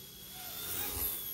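Rotors of an Eachine E119 RC helicopter whir in steady flight, a continuous faint whine with a slight swell toward the end.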